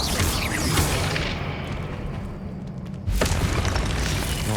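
Incendio fire spell cast in Hogwarts Legacy, a loud whooshing burst of flame that swells, dips, then flares again with a sharp boom, alone without talk.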